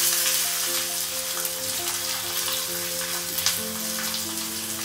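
Small onions (shallots) fry in hot oil with a steady, close sizzle and fine crackle, a few stirring scrapes surfacing over the hiss.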